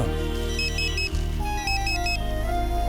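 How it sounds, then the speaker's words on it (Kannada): A mobile phone ringtone in a Kannada film scene chimes as a short repeating pattern of bright electronic tones, heard twice in bursts over steady background music. "ಫೋನ್ ಬರ್ತಾ ಇದೆ ನೋಡಿ"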